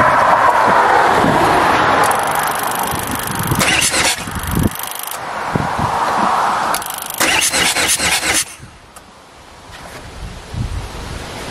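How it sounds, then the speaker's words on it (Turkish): A Renault Kangoo engine with an oil-fouled manifold cranks and turns over, loud rough bursts of starter cranking separated by pauses, then a quieter idle with wind noise buffeting the microphone outdoors. "gördüğünüz gibi motor dönmeye başladı"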